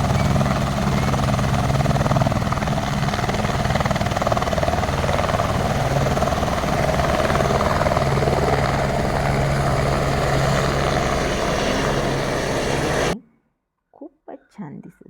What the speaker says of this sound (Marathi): खूप वेगवेगळ्या रंगांचे हेलिकॉप्टर, छोटी विमाने या ठिकाणी पाहायला मिळाली.